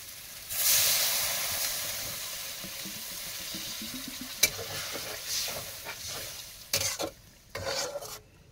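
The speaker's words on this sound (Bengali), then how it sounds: "এবার জল ঢেলে দেবো।" Water poured into sizzling curry sets off a loud burst of hissing steam, which settles into a softer simmering fizz with a few sharp clinks and stirring knocks near the end.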